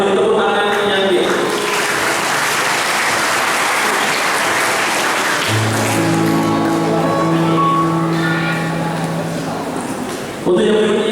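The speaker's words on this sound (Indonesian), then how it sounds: "Kita beri tepuk tangan yang baik" Crowd applause at a Muhammadiyah regional leadership inauguration ceremony in Boyolali, a steady, dense clapping from a large audience that carries on for several seconds, with a sustained musical tone entering partway through.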